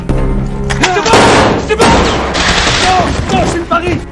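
Heavy gunfire from a war film battle inside a building, a dense fusillade of overlapping shots and booming thuds that runs loud and continuous throughout, with voices faintly mixed in.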